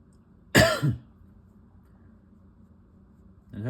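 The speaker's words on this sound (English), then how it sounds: "I had this like persistent cough for like the last while, couple weeks." A single close, sharp cough from a person with a persistent cough rises out of a quiet room, followed by a faint second throat sound at the very end.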